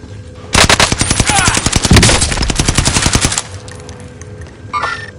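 Rapid machine gun fire in a video game, a loud sustained burst of evenly spaced shots lasting about three seconds, followed by quieter background noise and a brief distant rattle near the end.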